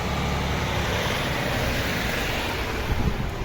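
A parked truck's engine runs close by outdoors, a steady loud low rumble with broadband wind-like noise that holds constant throughout, no talking.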